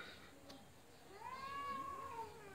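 Two angry cats in a standoff, yowling at each other: a single drawn-out, wavering yowl rises and falls near the middle, fairly faint against a quiet background.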